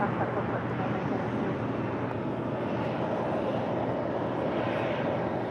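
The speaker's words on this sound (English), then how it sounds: "Indeed, Philippine 777 making that left-hand turn" Philippine Airlines Boeing 777 taxiing and turning onto a taxiway, a steady broadband jet engine rumble and whine holding constant throughout at moderate distance.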